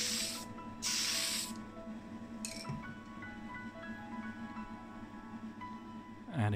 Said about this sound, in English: we're going with the Tamiya Fine Surface Primer in white